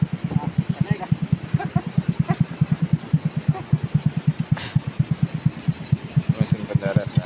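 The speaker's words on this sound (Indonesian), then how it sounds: "Ini mesin penderetnya tuh." The hauling winch engine on a fishing boat runs in a fast, steady low thumping beat, close and continuous, with brief faint voices and windy background at sea.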